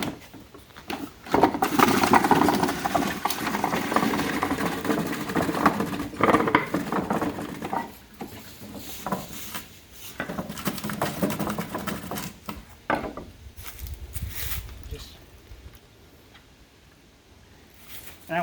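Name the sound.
fruit grinder grinding apples for cider pressing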